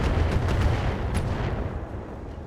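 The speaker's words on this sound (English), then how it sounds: "Shooting at me." Weapon fire in BattleTech at an armed ancient fortress, a dense rumbling barrage of shots and impacts that holds steady and then eases slightly over a few seconds.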